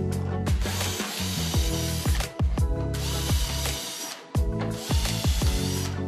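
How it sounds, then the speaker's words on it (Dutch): A power drill whirs in short repeated bursts, spinning up and winding down as it bores pilot holes into wooden planks, with brief pauses between holes. "Boor eerst enkele gaten voor."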